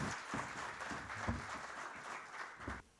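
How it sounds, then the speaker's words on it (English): An audience at a formal knowledge session applauds to welcome a doctor to speak, a moderate spread of clapping that cuts off abruptly near the end. "can we have a huge round of applause for Dr."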